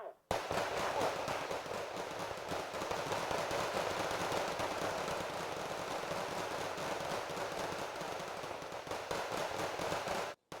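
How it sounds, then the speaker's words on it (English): A salvo of primary weapons from a group of units in Wargame: Red Dragon crackles continuously for about ten seconds, a dense overlapping rattle of rapid gunfire that stays loud and steady before cutting off abruptly. "they're also all gonna fire one salvo of the primary weapon"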